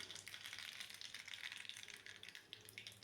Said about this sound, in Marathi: त्यामध्ये मोहरी टाकायची, चांगली तडतडून द्यायची